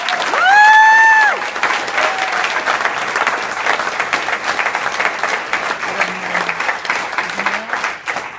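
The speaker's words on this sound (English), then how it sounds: "please step forward and take applause." Audience applause at a track alumni banquet: sustained clapping from a crowded room runs throughout, with a brief whistle near the start and faint voices beneath the steady patter.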